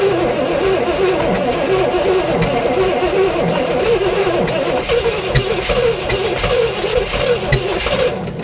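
A 1967 Oldsmobile Toronado engine running loud and close, a rough, steady roar with small surges as the throttle is held, while people talk nearby.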